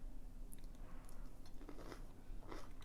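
Raw onion being bitten into and chewed, with several close, faint crunching bites over a low steady background rumble.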